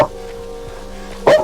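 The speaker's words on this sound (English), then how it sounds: "And then Galahad's downstairs barking the thunder away" A dog barks from downstairs during a thunderstorm, sharp single barks heard at a distance, the strongest near the end of the short clip, over a steady background hum.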